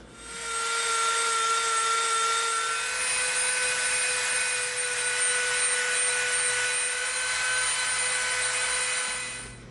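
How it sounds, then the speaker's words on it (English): Dremel rotary tool running steadily at close range, rounding off the edges of an EVA foam grip on a homemade EE3 carbine prop, with a continuous high whine and a rough grinding hiss throughout. "now we're gonna come in with our Dremel and we're gonna round the edges of the grip off"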